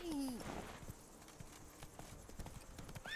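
A horse's hooves clip-clop at a quick, steady pace in The Witcher 3 video game, with a brief whinny at the start, and the rhythmic footfalls stay fairly quiet throughout.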